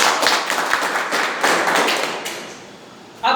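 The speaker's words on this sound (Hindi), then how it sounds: "ताली बजाओ तो दिल से बजाओ, जोर से बजाओ" Hall audience applauding on request, a loud dense burst of many hands clapping that swells again briefly, then fades toward quiet before a sudden noise at the end.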